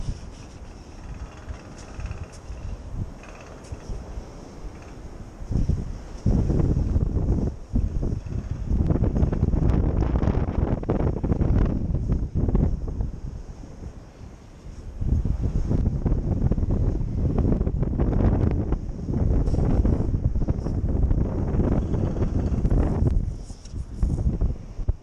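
Gusty wind buffets the microphone on a bay shore during metal detecting, in long loud surges with quieter lulls between, a rough continuous roar throughout.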